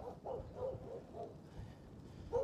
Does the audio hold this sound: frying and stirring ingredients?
no